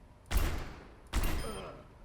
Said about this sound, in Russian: Вот так выглядит выстрел в голову из револьвера в Overwatch.